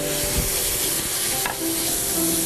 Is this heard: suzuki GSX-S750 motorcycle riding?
no